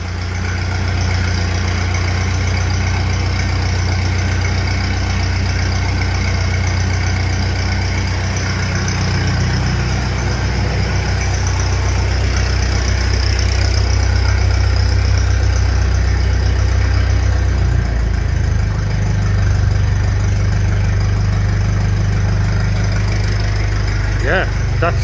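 A 1957 Ferguson 35 tractor with a TVO engine idles smoothly and steadily, a loud, close, even low rumble that never misses a beat, with faint talk now and then over it.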